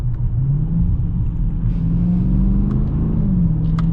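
A 2020 Dodge Challenger Scat Pack with an 8-speed automatic runs through quick downshifts in manual mode. Its deep, loud engine rumble rises and dips in pitch at each gear change, close up and with no talk.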